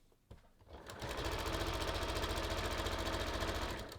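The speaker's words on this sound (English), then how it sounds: "now I can use the side of my presser foot as a guide right here" A sewing machine stitches a kangaroo pocket onto a top, starting after a brief click and then running steadily at a fast, even, buzzing rhythm, close and loud, for several seconds before slowing at the end.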